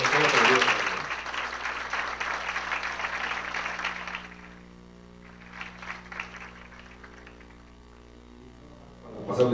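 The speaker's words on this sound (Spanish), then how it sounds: "pedirles un aplauso, porque de verdad es importante" Audience applause at a book presentation, a full burst of clapping that fades after about four seconds, leaving a quiet room with a low hum and scattered voices.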